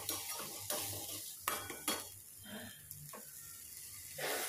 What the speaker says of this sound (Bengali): এরপর পুরো মশলাটা খুব ভালো করে কষিয়ে নিতে হবে